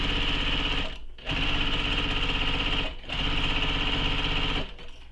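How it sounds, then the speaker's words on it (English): A sewing machine bastes a lining panel together with a long stitch, running loud and steady in three bursts separated by two brief pauses. "we're going to baste this panel together, and you can use a longer stitch length if you want for here"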